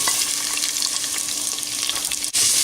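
Finely chopped onions frying in a clay handi for mutton handi, a steady dense sizzle close up that holds throughout with a brief dip near the end, no voices.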